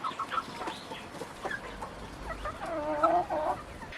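Chickens cluck nearby in a steady, murmuring chorus, with a few louder drawn-out clucks toward the end and no talking.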